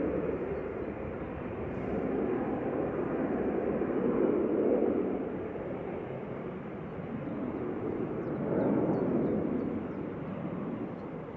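An EasyJet passenger jet bound for Tenerife departing Manchester Airport, a distant, steady engine roar with two slow swells in loudness, heard alone without talk.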